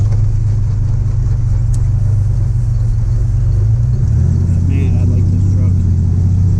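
A 1987 Chevrolet S10 pickup truck driving on the street, a loud, steady low engine rumble heard from inside the cab, with the pitch shifting slightly partway through.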